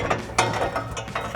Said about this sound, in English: we'll get our exhaust hanger remover and pop that out of our isolator